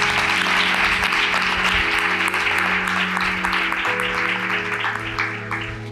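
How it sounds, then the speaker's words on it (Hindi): Enthusiastic clapping from a church congregation during a live sermon, dense and steady with sustained musical tones underneath, tapering slightly toward the end. "ऐसे खुदा के लिए जोरदार तालियां बजाएं"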